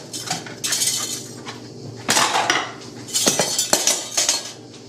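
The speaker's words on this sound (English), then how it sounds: "You can switch to the whisk now, and then you can be a bit more vigorous with it." Sauce for an English-style aubergine moussaka is whisked vigorously in a pan, giving bursts of metallic scraping and clinking from the whisk against the pan, separated by short pauses.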